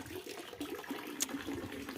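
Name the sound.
water running from a pipe into a tank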